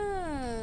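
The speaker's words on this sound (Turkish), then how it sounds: "A stray cat. Başıboş bir kedi." A single drawn-out stray cat meow from the video game Short Creepy Stories, with a smooth, gliding pitch, clear and close, sounding synthetic like a game effect, with no talking.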